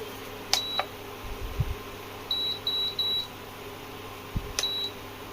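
Short electronic beeps from the touch panel buttons of a Prestige induction stove, a few isolated bleeps followed by a quick run of three similar tones, then more single beeps, clear against a quiet kitchen background.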